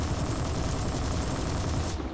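An M.B.162 attack bomber fires its 20 mm cannon in War Thunder, a continuous loud, fast rattle of shots that holds steady and then cuts off.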